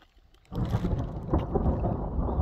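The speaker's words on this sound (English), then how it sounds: "oh, we got more rain coming." Thunder with rain on the way: a deep, rolling rumble breaks in after a brief quiet start and carries on loud and continuous, with a hissing wash like rain above it.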